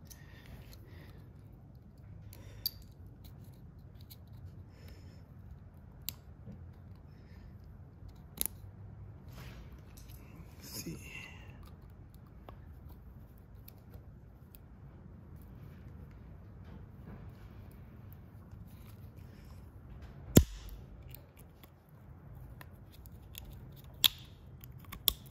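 A hose on a Chevy Cruze PCV kit is cut and pried at with a blade and pliers, giving sparse sharp snips and clicks over a quiet background, with one louder crack late on and no speech.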